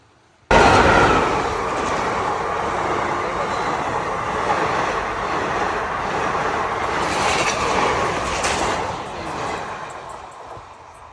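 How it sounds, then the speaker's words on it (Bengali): A train passes with a loud, sustained rumble and rattle of wagons that starts abruptly and holds for about ten seconds, swelling slightly midway before easing off, close to the listener. "আর এদিকে সামনে ট্রেন আসছে, দেখাচ্ছি তোমাদেরকে।"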